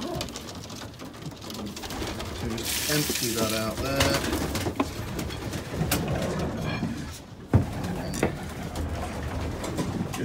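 Racing pigeons coo in a loft, a steady murmur of calls mixed with clatter and shuffling as someone talks while tending the birds.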